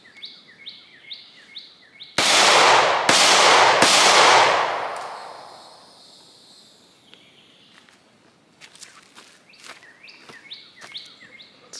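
Three loud Glock 43X pistol shots fired at 5 yards in quick succession, each a sharp crack with a long ringing tail, set against chirping birds and light footsteps outdoors.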